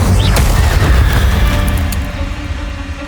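An Incendio fire spell in Hogwarts Legacy lands with a deep, roaring boom that swells loud and close, then fades into a sustained rumbling crackle.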